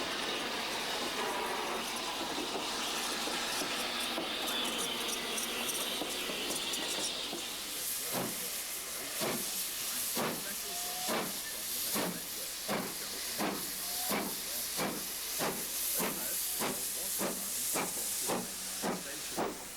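An S15 steam locomotive hauling a train on the Bluebell Railway at Kingscote lets out a long, loud hiss of steam, then settles into a steady run of close, strong exhaust chuffs, over a dozen in even rhythm.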